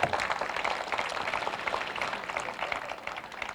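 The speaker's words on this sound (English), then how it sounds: "So please give them a round of applause." An audience at a police station ribbon-cutting ceremony applauds, a dense, steady patter of many hands clapping at moderate distance for a few seconds.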